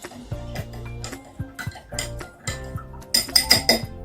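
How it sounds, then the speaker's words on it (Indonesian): A spoon stirs rice grains mixed with a solvent in a small container. Irregular metallic clinks and taps sound close by, with brief pauses and a quick flurry of knocks at the end. No speech. "Selanjutnya kita aduk berasnya."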